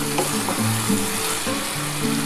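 Vegetables for shukto sauté in a hot pan with a loud continuous sizzle and hiss, punctuated by brief stirring scrapes, with no voices.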